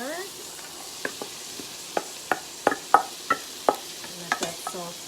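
Carrots going into a hot pan with bay leaves and sauteing, a steady soft sizzle broken by a series of sharp stirring clacks against the pan, close and clear.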